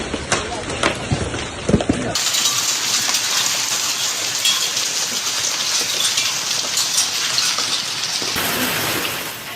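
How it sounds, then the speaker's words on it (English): Hail pelts parked cars during a massive hailstorm in Beijing, a dense, constant clatter of stones on sheet metal that runs loud and unbroken, with rain mixed in. "Dozens of videos captured the constant metallic sound of hail striking parked"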